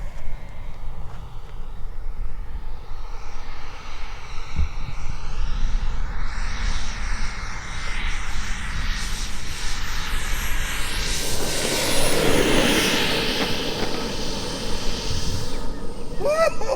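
A Sebart Mini Avanti model jet with a turbine flies overhead, a steady whining roar that swells as it nears and passes, heard outdoors at moderate distance.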